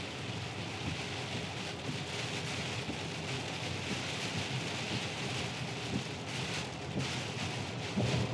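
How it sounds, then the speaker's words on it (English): Heavy rain drumming on a Tesla while it drives through a storm, a constant loud wash of rain on the car with occasional low rumbles, no voices. "This is actually more rain than I anticipated based on what it was doing this morning."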